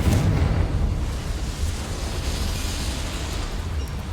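A Confringo blasting spell goes off in Hogwarts Legacy as a sustained, loud, noisy roar of explosion and rumble lasting several seconds without any voices.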